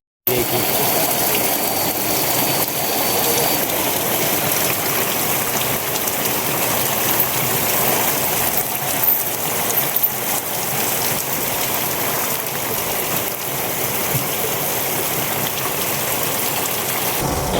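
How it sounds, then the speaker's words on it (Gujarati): Heavy rain beats down steadily and loudly for the whole stretch, a dense continuous patter on nearby surfaces, heard while people shelter under a tree near Ambaji during preparations for a seva camp. "જોરદાર વરસાદ ચાલુ થઈ ગયો"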